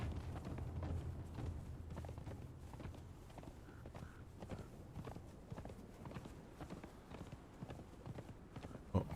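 Horse hooves clip-clop in a steady walking rhythm while riding in the video game Conan Exiles, continuous, fairly faint and close, with no talk over them.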